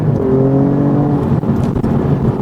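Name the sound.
Alfa Romeo Giulia Quadrifoglio engine revving in its most extreme mode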